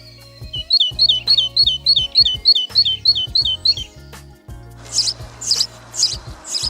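A tit chirps in a quick run of about ten high, bright repeated notes, then three sharper calls after a short pause, close and loud over low background thuds and hum.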